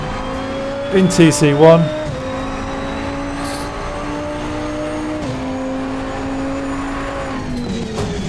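A KTM X-Bow GT2 race car at the Red Bull Ring in Assetto Corsa Competizione accelerates at full throttle, its engine note climbing through the gear changes, while someone talks over it throughout.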